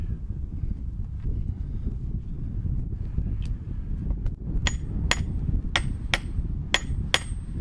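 A hammer taps a sledgehammer head down onto its new handle, starting with faint knocks and building into six or seven sharp, ringing metallic strikes at an uneven pace, heard over low outdoor wind rumble.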